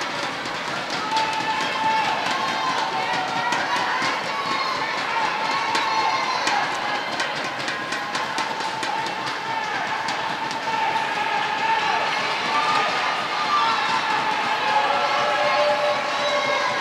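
A large crowd cheers and roars continuously at an indoor pool during the 2013 Special Olympics Virginia Summer Games aquatics event, with scattered sharp claps and splashes running through the steady din.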